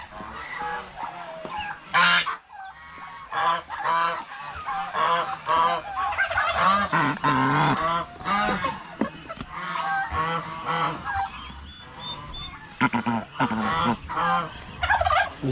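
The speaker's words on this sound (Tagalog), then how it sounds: "Sisiw ng gansa" Geese and goose chicks at a rural hut, honking loudly and continuously in overlapping calls, close by, with high chick peeps mixed among the adult honks.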